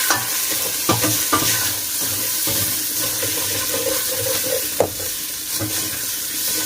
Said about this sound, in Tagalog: Parang gigisahin mo lang siya.